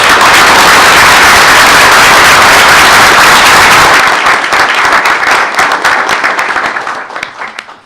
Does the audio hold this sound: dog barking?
no